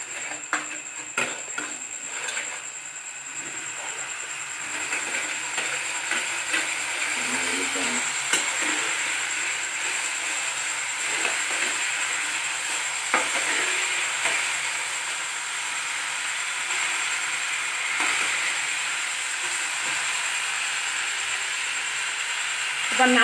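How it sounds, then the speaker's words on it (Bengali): Asafoetida stir-frying in hot oil for pointed gourd korma, a continuous close sizzle with a bright steady hiss and scattered spoon scrapes and taps throughout. "হাফ টেবিল চামচ হিং, ভালো করে কষিয়ে নিতে হবে সুন্দর করে।"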